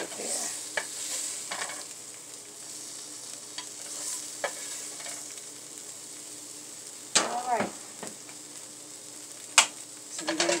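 Turkey bacon in a frying pan gives a quiet, steady sizzle, broken by scattered clinks and scrapes of a utensil, with sharper clatters near the end.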